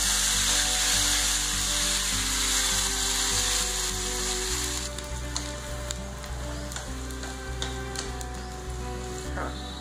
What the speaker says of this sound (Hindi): राई तड़कनी चाहिए